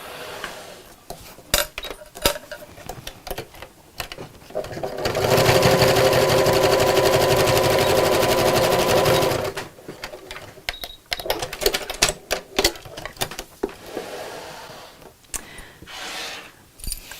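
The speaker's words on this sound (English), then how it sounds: "I'm going to zigzag stitch down here, and I'm using a zigzag stitch to stop the ends from fraying." A sewing machine runs a zigzag stitch over fabric holding D-rings, a few seconds of rapid, even mechanical chatter close up, framed by quieter handling clicks and rustles before and after.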